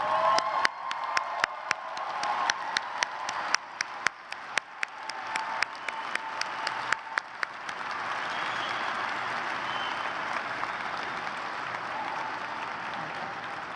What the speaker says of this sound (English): please rise and join me in a round of applause for your teachers and mentors